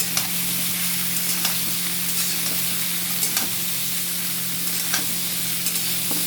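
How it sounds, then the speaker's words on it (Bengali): Boiled taro pieces fry in hot oil in a wok, a steady crackling sizzle with occasional louder pops and spatters and a low constant hum underneath. "ছোলা কচু কেটে সিদ্ধ করে রেখেছি আমি এখন ভেজে নেব"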